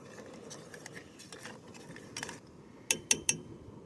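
A spoon stirs maple sugar candy into milk heating in a pot. Three sharp, close metallic clinks come near the end, after a stretch of soft background noise.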